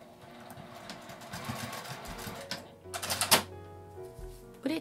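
A sewing machine basting a folded fabric strap threaded through a D-ring, running in quiet, uneven bursts with short mechanical rattles and a louder clatter near the end.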